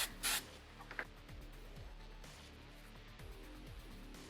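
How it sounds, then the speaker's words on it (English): A short, loud hiss of aerosol spray onto a pastel drawing on paper at the start, then faint rustling and a quiet steady background. "I'm just going to spray that real quick."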